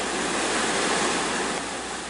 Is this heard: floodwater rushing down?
yes